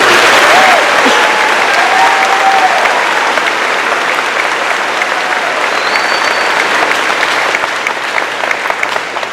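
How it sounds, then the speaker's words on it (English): Loud, sustained applause from a graduation ceremony audience fills the space evenly, with a few faint whistles rising above the clapping. "Let's give them a round of applause."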